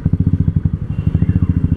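Modified Royal Enfield scrambler motorcycle fitted with a Dolphin exhaust, idling close up with a loud, deep, evenly pulsing thump, about ten beats per second, with no one talking.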